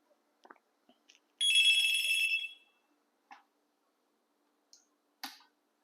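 A wired wall-mount analog hotel trim line telephone rings once in a bright, buzzy metallic burst lasting about a second, close and fairly loud, with faint clicks and handling taps before and after.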